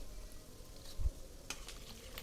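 Three sliced shallots sauté in a pan with a soft, faint continuous sizzle, joined by a dull knock around the midpoint and a light clink shortly after, with no talking.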